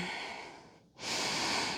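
Steady breath sounds during a hatha yoga session in the mountains: a long exhale fades into a brief pause, then a fuller, louder breath follows, close and unaccompanied by talk.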